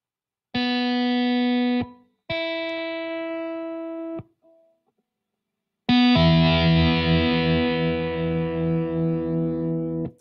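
Kite guitar played through heavy distortion, with low difference tones brought out: two sustained held chords with a short gap between them, then after a pause a louder, denser strummed chord that rings and slowly fades.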